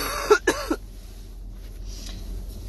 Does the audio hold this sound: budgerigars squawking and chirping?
no